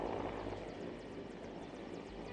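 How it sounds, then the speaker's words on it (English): A Mi-17V5 military helicopter hovers nearby, its rotor beating in a steady rapid thump over a loud, constant engine roar. "The Mi-17V5 helicopter with Garud Special Forces on board"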